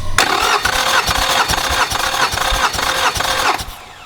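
A six-cylinder engine cranks over with the spark cut for a cold compression test, the starter spinning it in a steady rhythmic churn, loud and close, before it stops near the end.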